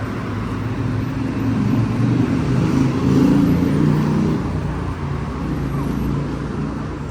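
Busy city-centre traffic rumbles near a metro station in Tbilisi, Georgia, with cars and buses passing in a continuous, fairly loud wash and faint voices mixed in.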